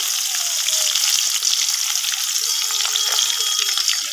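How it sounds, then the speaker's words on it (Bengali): Chopped onions fry in hot oil in a pan with cumin seeds, bay leaves, cardamom and cinnamon, sizzling steadily and close with a crisp, continuous hiss while haleem is being made. "তো এভাবে কিছুক্ষণ পেঁয়াজটি একটু ভালো করে লাল লাল করে ভেজে নেব।"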